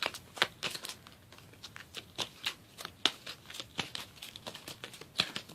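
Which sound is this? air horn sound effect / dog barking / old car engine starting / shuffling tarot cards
shuffling tarot cards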